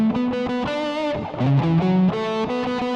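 Distorted electric guitar with chorus-like effects plays a fast, repeating lead phrase from a song's solo. Bright sustained notes step up and down in quick succession, loud and close.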